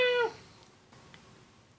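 A person imitates a cat, giving one short, tonal meow at the start that cuts off abruptly, followed by a quiet room.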